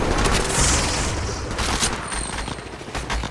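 Gunfire rattles through an Apex Legends ranked match in dense, rapid bursts, loud and close, with sharp cracks piling over one another and no voices.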